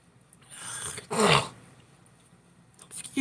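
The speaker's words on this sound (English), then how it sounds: "Excuse my sniffling and my cough." A close, wet sniffle followed by a short burst of coughing, then quiet breathing and another faint sniff near the end.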